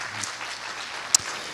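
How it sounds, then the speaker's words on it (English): Audience applause at a robotics team's 2023 robot reveal event, a soft, even wash of clapping with one brief sharp clap standing out near the end. "So please give them another round of applause."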